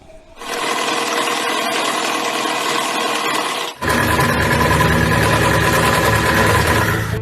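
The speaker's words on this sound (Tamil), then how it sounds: "சுமார் 45 வருடத்திற்கு முன்பு தயாரிக்கப்பட்ட சோவிங் மிஷின்" A vintage sewing machine, roughly 45 years old, runs steadily and stitches fabric with a continuous close mechanical whir, briefly dipping near the middle before resuming at full, even speed.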